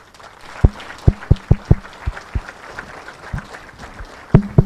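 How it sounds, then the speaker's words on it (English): Scattered claps ring out at a science week inauguration as the audience stands for staff, sharp separate hand claps at an uneven rhythm, fairly close and loud, with no voices. "I would like us to stand and clap for them, please."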